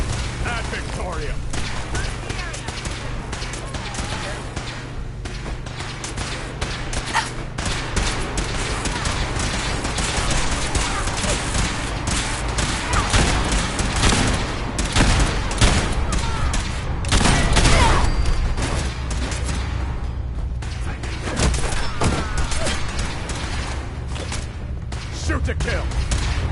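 Video game gunfire crackles in dense, overlapping volleys of rapid shots, with thuds and booms mixed in, near and loud for the whole stretch while voices shout over it.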